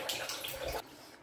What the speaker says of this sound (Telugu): ఇంకో గ్లాస్ వాటర్ వేస్తా, ఒక రెండు గ్లాసులు వేస్తున్నా